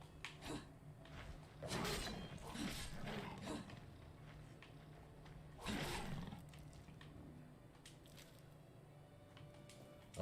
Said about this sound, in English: There's a wildcat again.